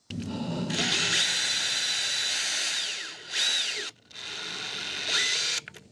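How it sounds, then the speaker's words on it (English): A power drill whirs steadily into wood, drilling a pilot hole for a garden bench, stops briefly, then spins up in two more short bursts with a falling whine as it slows. "drill one hole, put your screw in, and that'll hold everything together for your next screw"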